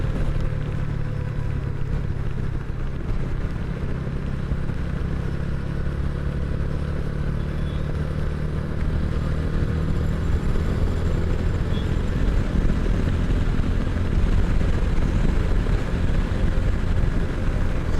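A TVS Ronin motorcycle rides along the NH-12 highway, its engine a steady low drone under heavy wind rush, continuous and close, with traffic faint in the background.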